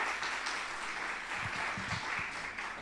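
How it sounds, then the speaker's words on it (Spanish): Audience at a literary festival applauding invited poets, a soft, even spread of clapping heard from a distance, with a few low thumps near the middle. "Un fuerte aplauso para Duván y para Teófilo."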